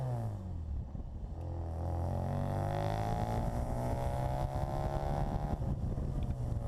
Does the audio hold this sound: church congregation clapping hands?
no